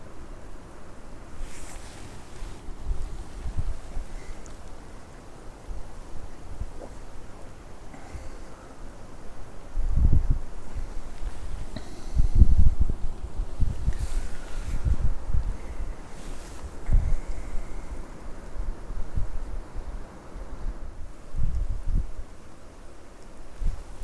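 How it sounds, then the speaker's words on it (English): Wind rushes and buffets for a long stretch, swelling into low, rumbling gusts that thump against the microphone, with leaves rustling faintly. "it's a windy day."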